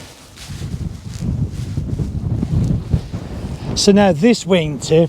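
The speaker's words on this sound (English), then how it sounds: "the wind is blowing through the wing" Wind rushes and buffets against a paraglider wing during ground handling, a steady loud roar of gusts, with a voice briefly sounding near the end.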